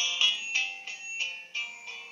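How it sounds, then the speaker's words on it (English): A Chinese five-leaf brass jaw harp plucked while held away from the mouth gives a thin, bright metallic twang, repeated about every third of a second in a steady pulsing rhythm, close and clear with no voices. "five-leaf brass mouth harp"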